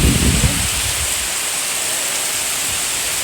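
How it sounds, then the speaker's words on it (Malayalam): Steady drizzling rain with wind in Thalassery, a continuous broadband hiss of falling drops with a brief low rumble at the start, no voices. "ഇന്നിവിടെ നല്ല ചാറ്റൽ മഴയാണ്. എന്താ മഴ, കാറ്റും മഴയും."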